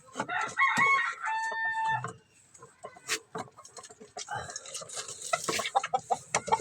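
Backyard chicken, a rooster with a hen, clucking and then crowing in short bursts near the microphone beside a small coop, with background noise and handling sounds around them.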